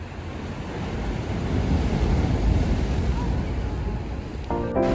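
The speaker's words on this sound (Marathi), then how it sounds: "समुद्रांच्या लाटांचा आवाज ऐकत हे मंदिर बघण्याचा एक्सपिरियन्स खूपच छान होता" Sea waves surging onto the shore beside Somnath temple on the Gujarat coast, a steady loud broadband wash with wind buffeting the microphone, and a brief tonal hum near the end.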